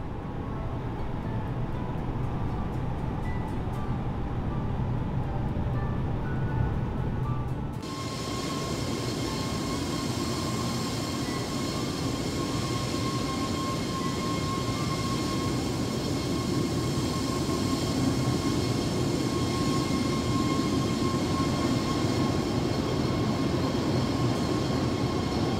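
Jet engines of an Airbus A330-900 spool up and roar steadily during takeoff in a flight simulator, a constant broadband rumble that intensifies about eight seconds in and holds with a high whine.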